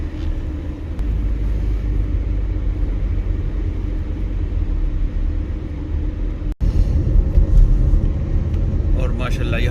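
A car drives on a snowy road in Japan during a snowstorm, its engine and tyres making a steady, close, low cabin rumble that grows slightly louder after a brief dropout.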